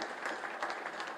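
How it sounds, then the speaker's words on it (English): Audience applause at an outdoor ham radio club anniversary gathering for MFJ Enterprises, a steady, dense wash of many hands clapping that holds evenly for the whole short stretch with no voices over it. "Would you give a round of applause for the Randalls and group?"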